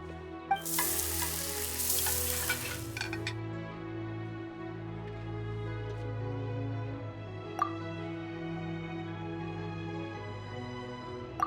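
Food frying in a Genshin Impact cooking scene, opening with a bright hissing sizzle for a few seconds, then settling into soft bubbling with occasional light clinks under a gentle musical background.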